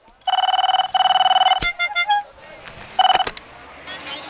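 Phone ringing for an incoming call in a comedy scene: two loud bursts of a warbling electronic ringtone, a short break with a few chirps and clicks, then another brief burst, all close and bright.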